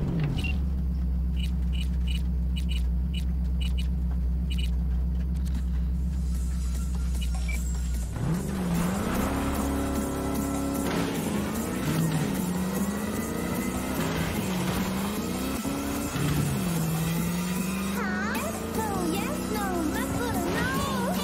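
A car engine in Cyberpunk 2077 idles with a low, steady hum, then revs repeatedly in rising and falling surges, loud and close.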